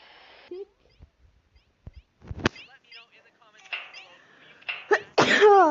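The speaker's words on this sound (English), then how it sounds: "Sorry guys, I just really need to sneeze." A person sneezes during game commentary, a sharp, loud burst near the end following quieter breaths and muttering, with talk around it.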